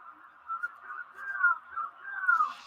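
A referee's whistle from the NFL 2K4 football video game sounds as a steady, wavering tone that runs unbroken for almost three seconds and swells slightly toward the end, heard alone.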